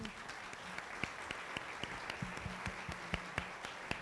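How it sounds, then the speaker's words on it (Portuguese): A modest conference audience claps after a talk on the conservation and restoration of tiles, with scattered individual claps popping out over a fairly faint, steady patter. "le queremos agradecer mucho a Lourdes con un aplauso"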